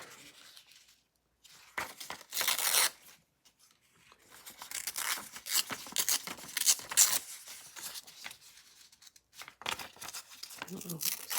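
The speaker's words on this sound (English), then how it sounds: "sometimes you just really got to keep ripping it" Paper being torn by hand for a handmade journal, in several separate bursts of rough ripping and crinkling, close and fairly loud, with short quiet gaps between them.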